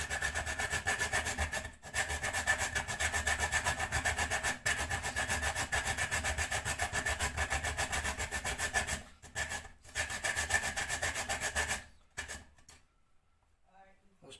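Nutmeg grated on a hand grater while baking banana blackcurrant muffins: close, steady rasping strokes running almost continuously, broken by a few short pauses, then stopping near the end.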